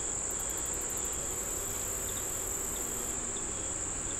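Honeybees hum inside a five-frame nuc hive, a steady, faint, close drone that runs unbroken under a high, thin insect-like whine, with no voices.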